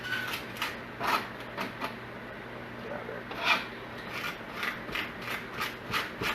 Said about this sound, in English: I take the back of my knife and grind it down